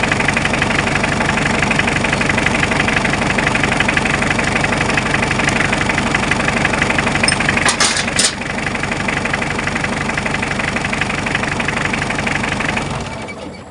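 A car engine with a faulty alternator that is not charging idles loudly and steadily with a rhythmic knocking chug, briefly dips partway through, then winds down and cuts out at the end.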